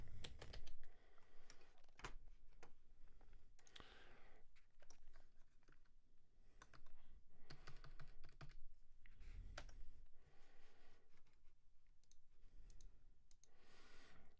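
Someone types on a computer keyboard in quick, irregular bursts of close, crisp key clicks with short pauses between runs, quiet and without voices.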